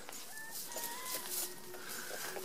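A broody hen clucks inside a wheeled chicken tractor set within electric poultry netting, giving soft, intermittent calls at moderate distance over a steady outdoor background.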